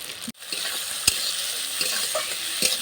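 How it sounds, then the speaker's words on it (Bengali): Turmeric and chilli powder masala for a village-style murli fish curry sizzles and crackles in hot oil. The frying is steady and close, with a sharp knock near the start and a few light clicks of stirring. "দিয়ে মশলাটা ভালো করে কষিয়ে নেব"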